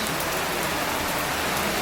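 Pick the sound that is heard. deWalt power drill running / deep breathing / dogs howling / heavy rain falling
heavy rain falling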